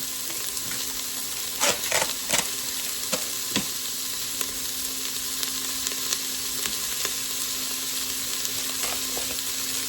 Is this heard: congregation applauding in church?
no